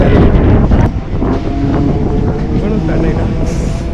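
A passenger train on the line from Chennai toward Kanchipuram rumbles along steadily, with loud low rolling noise, wind buffeting and rattling throughout, heard from on board.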